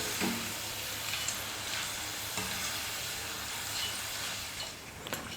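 Potato chips, cut to one even size for bakery-style crisps, frying in hot oil with a steady close sizzle and bubbling hiss throughout, with faint stirring clicks now and then.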